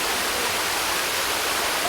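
The Ranajilleda waterfall roars in a dense, unbroken rush of falling water that fills the clip evenly and loudly, with no distinct voices.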